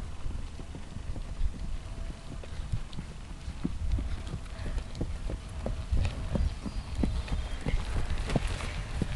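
A walking horse, its hooves clip-clopping in a steady, continuous rhythm of fairly close hoof strikes over a constant background bed.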